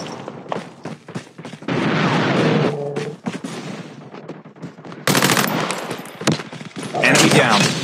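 Gunfire in the mobile shooter game Call of Duty Mobile, with rapid automatic bursts and scattered shots, loud and close, mixed with short game voice callouts.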